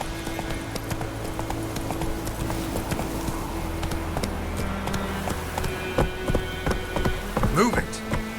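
Roach, a horse in The Witcher 3, gallops with steady rapid clip-clop hoofbeats close by, mixed with a rain-like patter and ambient game music throughout.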